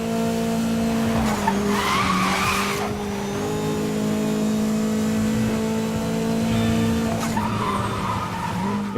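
A Lancia sports car engine in a video game drones steadily with harmonic tones, briefly revving and whining higher around two bursts, loud and continuous with a game-like synthetic quality.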